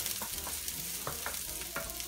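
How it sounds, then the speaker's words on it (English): Onion frying in oil before spinach goes in, a steady close sizzle with a few scraping stirs, no talking. "I'm gonna fry spinach. So I put oil and onion."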